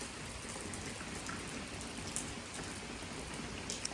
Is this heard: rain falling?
yes